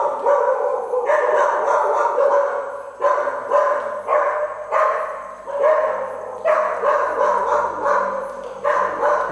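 Several dogs bark in repeated bursts, loud and close, near an abandoned school in deep mud, with short pauses between volleys and no talk.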